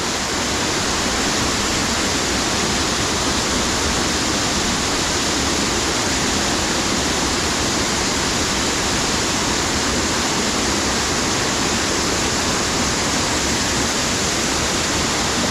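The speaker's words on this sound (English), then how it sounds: "go right next to the waterfall. Spectacular that" Waterfall at Harmby heard from close beside the falls on flat rocks, a dense, steady roar of pouring water that stays loud and unbroken throughout, with no voices.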